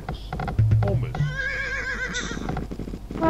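Horse whinnies in a real-time strategy game, a wavering neigh with clip-clop hoofbeats and game effects, heard under a commentator's continuous talk.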